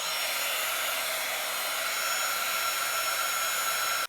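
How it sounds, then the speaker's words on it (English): A heat gun melting embossing powder on a watercolor card gives a steady, loud, breathy blowing hiss that runs without a break and with no talking. "before you get your heat gun out"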